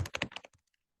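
Fingers tapping rapidly on a computer keyboard, a quick close burst of about half a second of clicks that then stops into quiet, with no talk.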